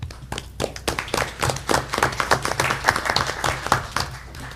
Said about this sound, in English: I'm going to give them a round of applause.